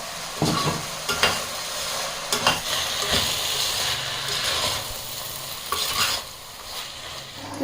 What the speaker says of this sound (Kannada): ರುಬ್ಬಿರೋ ಮಿಕ್ಸ್ಚರು ಕೂಡ ಹಾಕ್ಬಿಡ್ತೀನಿ ಏನಿದೆ ಆಲ್ರೆಡಿ ನಾವು ಚೆನ್ನಾಗಿ ಫ್ರೈ ಮಾಡಿರೋದ್ರಿಂದ ಒಂದು ನಿಮಿಷ ಸುಮ್ಮನೆ ಫ್ರೈ ಮಾಡಿದ್ರೆ ಸಾಕಷ್ಟೇ